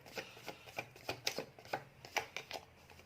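Tarot cards being shuffled by hand in a quick, uneven rhythm of soft riffling and slapping bursts, close and fairly quiet, with no talking.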